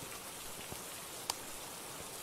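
Steady soft rain hiss in the video game Phasmophobia fills the scene, with a couple of faint drop ticks; calm, even and continuous.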